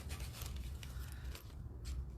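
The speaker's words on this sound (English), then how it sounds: "Probably would have been easier with a bigger pair of scissors." Small scissors snip roughly around leftover scraps of Tilda Fix fusible fabric, a steady run of close, soft crisp cuts and rubs with no talking.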